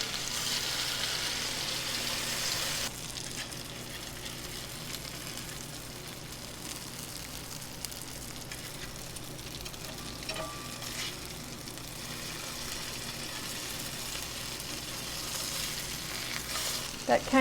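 Squash patties sizzle and fry steadily in a hot pan, a continuous close crackle with a brief louder hiss at the start and light occasional stirring clicks.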